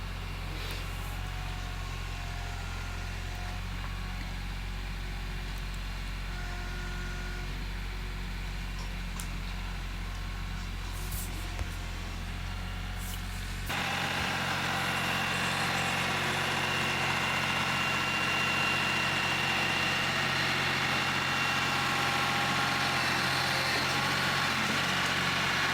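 A tractor fitted with clamp-on debris forks drives along carrying a load toward the edge of the woods, its engine a steady low idle-like rumble that shifts to a brighter, louder drone partway through, continuous and close, with no one speaking.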